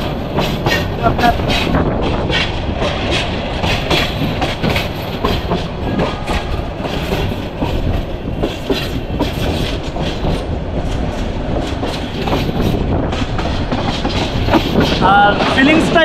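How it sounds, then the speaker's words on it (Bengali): A crowded passenger train on the way to Sreemangal, Bangladesh, rumbles and clatters steadily throughout, a loud continuous rolling noise with rhythmic wheel knocks and faint voices underneath. "ট্রেনে যত ভিড়, আমরা কিন্তু বসার সিটও পাই না, দাঁড়ায় যাচ্ছি।"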